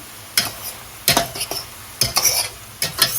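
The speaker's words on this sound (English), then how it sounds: "I'm gonna let this saute for another minute." A Thanksgiving dish sautés in a pot, a steady sizzle punctuated by four loud bursts of scraping and clattering as a utensil stirs against the pot at regular intervals.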